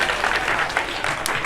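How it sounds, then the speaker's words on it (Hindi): Applause from a quiz audience at an Islamic quiz competition, a short burst of steady clapping from a small crowd at moderate distance. "तालियां जोरदार"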